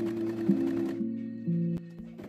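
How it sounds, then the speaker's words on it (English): A sewing machine runs in short bursts, stitching pieces of fabric together with red thread for a plush baby seal, its motor whirring loud and close with brief pauses and pitch shifts. "And then I just went in with my sewing machine and sewed everything together."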